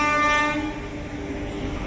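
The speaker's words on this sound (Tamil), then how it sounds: "ட்ரெயின் மட்டும் தான் போயிட்டு இருக்குது காய்ஸ்." A train rumbles through a railway station with a sustained tonal horn or wheel squeal fading over the first second, then steady rolling noise, loud and close.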